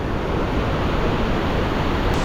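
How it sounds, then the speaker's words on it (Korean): Spray from Iguazu Falls drifting down like rain near the Salto San Martín cascade, a dense, constant rushing hiss of water and wind all the way through, with no voices. "이곳에 있으니까 비처럼 물이 내리는데 요 폭포가 튕겨가지고 다시 올라온 거였어."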